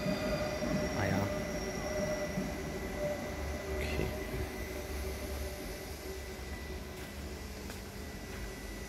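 A Munich U-Bahn C2 subway train runs with a steady low rumble and whining motor tones, heard from inside the car with faint squeals, while people talk quietly nearby.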